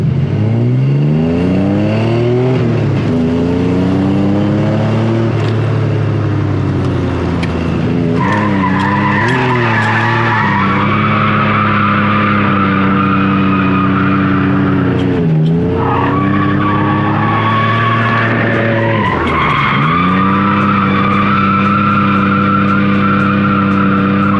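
An Infiniti M30 drifts with loud, sustained tire squeal and skidding over a revving engine, the screech rising and falling as the car slides back and forth close by.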